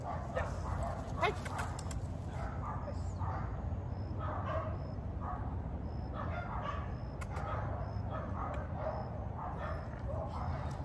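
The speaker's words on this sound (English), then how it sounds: "So, Summer got a little bit worried from the dogs from behind" Several dogs bark repeatedly in the background of a backyard, distant yips and woofs scattered across the whole stretch while a person talks nearby.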